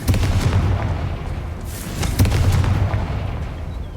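Confringo fire spell blasts in the Hogwarts Legacy video game: two loud booming bursts with deep low-end rumble, the second near the middle, each decaying into a crackling tail.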